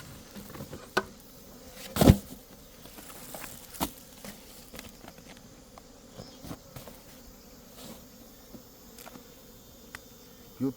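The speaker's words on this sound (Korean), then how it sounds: "생각보다 많은 양의 꿀벌이 지금 들어있는 놈입니다" A swarm of honeybees drones around a hive box in a continuous low buzz. Scattered sharp knocks and taps sound throughout, with one louder knock near the start.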